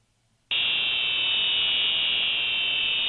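An emergency alert buzzer sounds a steady, loud, piercing high tone that starts abruptly after a brief silence and holds unbroken, odd and musical rather than a normal buzz.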